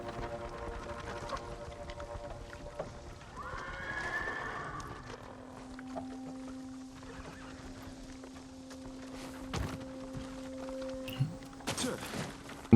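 Horses in the game Ghost of Tsushima, a whinny early on, then soft clip-clop of hooves under ambient game sound, fairly quiet overall with a few sharper knocks near the end.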